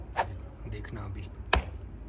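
A pet rabbit at night thumps its foot against the ground, two sharp dull knocks about a second and a half apart, close by, with faint room noise between.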